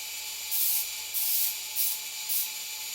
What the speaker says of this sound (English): So this is induction coil. You can hear the interrupter. There's an interrupter in there with the spark gap